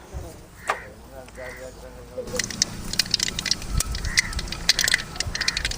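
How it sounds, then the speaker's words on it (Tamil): Black peppercorns pop and crackle in a hot pan while cooking keerai kuzhambu, with sparse sharp snaps at first that become a denser run of crackling, close by, with a voice talking early on. "மிளகு வெடிக்குது"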